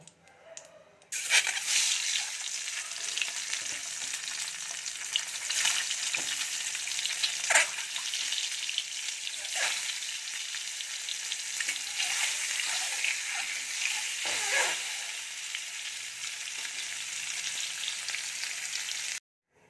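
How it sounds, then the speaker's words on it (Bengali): Eggs sizzle and crackle steadily in hot oil in a wok, with occasional stirring and spatula scrapes breaking through the continuous frying hiss. "এবার ডিমগুলো আমি খুব বেশি করে ভাজবো না, একটু হালকা ভেজে নেব।"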